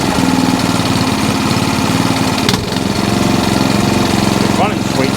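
A Qualcast Suffolk Punch 14sk cylinder mower engine runs steadily nearby, a loud, continuous mid-pitched chug with a brief dip, not revving up and down responsively and needing throttle adjustment.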